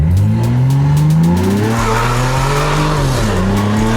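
Tuned BMW Competition with carbon fiber hood and roof, its engine revving hard and close, pitch climbing and dropping through several swells with a raspy, aggressive tone and no voices.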